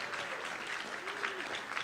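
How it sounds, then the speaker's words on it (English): Audience applause after a fencing demonstration at a comic convention, a steady, even wash of many hands clapping throughout, with a faint voice briefly beneath it. "Give yourselves a big round of applause"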